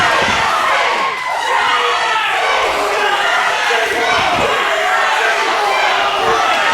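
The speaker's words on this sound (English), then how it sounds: "This crowd firmly behind JMC." A loud wrestling-show crowd at a live independent wrestling event cheers and shouts continuously, a dense roar of voices close and sustained throughout.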